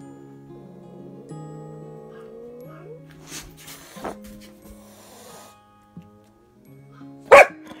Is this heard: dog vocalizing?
yes